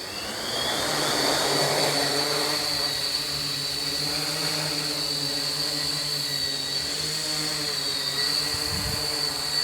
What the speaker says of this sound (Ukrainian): Вигуни вимкнено. Двигуни запущено.